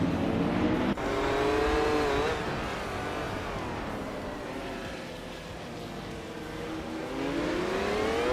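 Race car engines in a racing video game, a high whining engine revving and shifting as cars pass, rising and falling in pitch with a brief tire squeal, loud and continuous.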